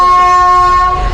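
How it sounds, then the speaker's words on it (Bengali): The horn of the Shalimar–Puri special express sounds as it departs, one loud, sustained, close blast that cuts off after about a second. "ফাইনালি ট্রেন ছাড়লো, শুরুতেই 55 মিনিট লেট।"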